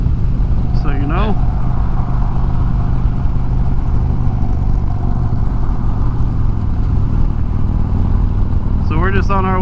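Steady engine drone and road noise from riding a motorcycle on the road, loud and continuous throughout, with brief voices talking near the start and end.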